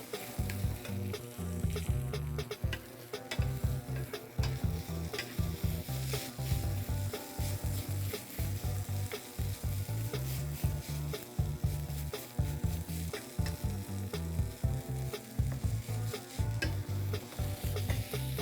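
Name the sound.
food sizzling in a pan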